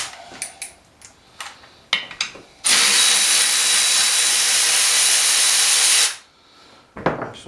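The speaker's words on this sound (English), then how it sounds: "Milwaukee power ratchet here." A Milwaukee power ratchet works on a Snapper 3081 engine, a loud steady whir and hiss lasting about three and a half seconds, framed by scattered clicks and clanks of tool handling before and after.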